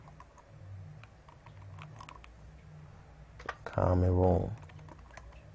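Fingers type on a computer keyboard, producing light, scattered clicks and a short burst of quick keystrokes while someone speaks.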